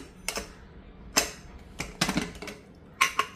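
Sharp metallic clicks and clanks close by, a handful of separate knocks spread over a few seconds, as a pressure cooker lid is worked loose.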